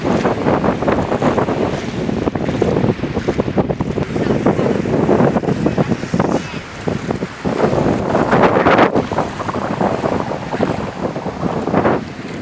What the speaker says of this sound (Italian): C'è tanto vento, guarda,